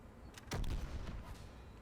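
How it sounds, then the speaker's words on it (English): Graal Spike Thrower charge shot fired in Mass Effect 3 multiplayer: one heavy, booming discharge with a short rumbling tail, preceded by faint mechanical clicks, fairly quiet overall. "So I'm gonna see what this charge shot does"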